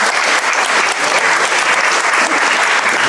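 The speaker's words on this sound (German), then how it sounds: "dieser Applaus gilt natürlich auch Frau Dr. Babender-Erde" Audience applause fills a church during an evening salon event, a dense steady clapping from a full crowd that stays loud and even throughout without breaks.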